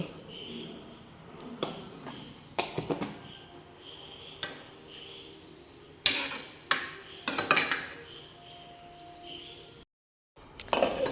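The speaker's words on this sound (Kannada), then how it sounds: "ಇವಾಗ ಮುಚ್ಚಳ ಮುಚ್ಚಿದೆ" A metal pot lid clatters shut in a home kitchen while cooking puri bhaji, sharp clinks and knocks of cookware scattered over several seconds, close and distinct against a quiet background.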